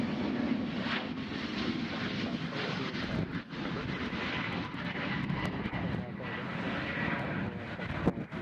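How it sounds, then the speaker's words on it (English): An Airbus A350 airliner at Nashville International Airport produces a steady, broad jet-engine roar that holds at a constant level throughout, with someone talking over it. "now what makes that plane special is it's the first 350 we've had here"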